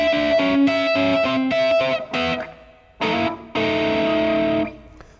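Electric guitar plays a blues shuffle lick with pick-and-fingers technique, through a distorted, effected tone: a run of sharply plucked notes, a brief gap, then two more sustained phrases, loud and alone.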